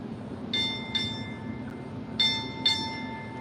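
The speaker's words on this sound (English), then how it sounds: "Sound 4 bells." Ship's bell struck four times in two paired strokes during a US Navy retirement ceremony, clear ringing chimes over a steady low background hum, no talk.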